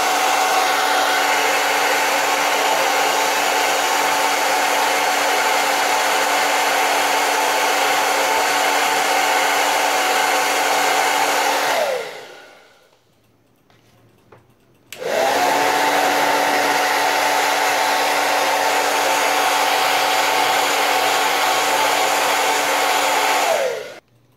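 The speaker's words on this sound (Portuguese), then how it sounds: "Quando ficar transparente, aí você vem e joga o secador em cima." A loud hair dryer blows steadily up close on glue in a mold, cuts off for a few seconds, then starts again and runs on.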